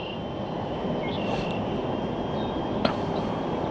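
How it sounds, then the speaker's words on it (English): A low, steady rumble of a distant train fills the whole stretch, broad and continuous with no voices, a faint whine riding above it. "Here a train."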